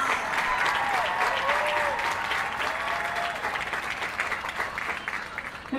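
A graduation audience gives a commencement round of applause: dense, sustained clapping from a large crowd that stays full and even, then tapers slightly near the end.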